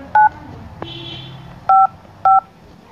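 Three short, loud phone keypad tones are pressed to enter bank account digits on an automated SBI balance-check call, spaced apart over a quiet line with a faint tone in between.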